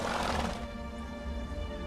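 Roach, a horse in The Witcher 3: Blood and Wine, lets out a loud, close whinny that fades into a sustained lower tail.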